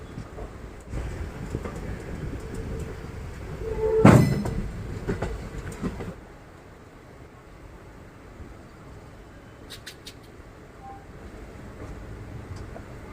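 A passenger train runs along the track toward Shoranur Junction with a steady rumbling roll, a sharp louder burst of clatter and squeal near the middle, then quieter continuous running with faint high squeaks.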